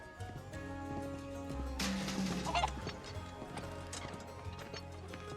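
A chicken in Final Fantasy VII lets out a short burst of squawking clucks, heard over clip-clopping hooves and a soft musical backdrop.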